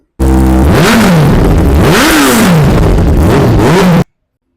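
A BMW S1000 RR M Sport superbike with an aftermarket exhaust is revved hard at a used-bike dealer in Koramangala, Bangalore, its engine rising and falling in three loud, close blips over about four seconds.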